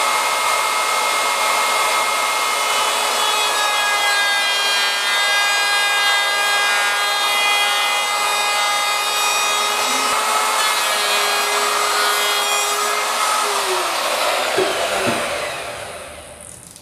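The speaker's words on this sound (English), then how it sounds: "this has got to be the cheapest jigsaw that's on the market, but that's okay. It did the trick." A very cheap jigsaw cuts a slightly undersized hole in wood for a router table, a steady loud high-pitched whine with rasping blade strokes that runs continuously before stopping near the end.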